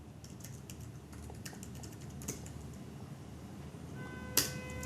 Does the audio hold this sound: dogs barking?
no